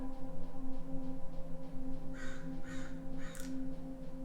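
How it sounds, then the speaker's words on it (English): A crow caws near a window in a few short, harsh bursts over a steady background hum, loud and close. "Do you hear the crow? He's always here by my window."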